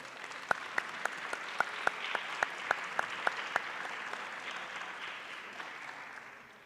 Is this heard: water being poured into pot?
no